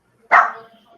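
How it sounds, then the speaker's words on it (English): A female dog gives one sharp, loud bark close by, with no other sounds around it. "So we're gonna let this dog bark for a couple minutes."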